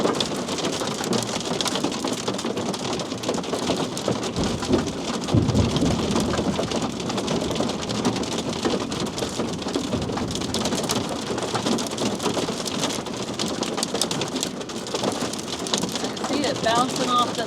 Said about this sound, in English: are parked in a hailstorm.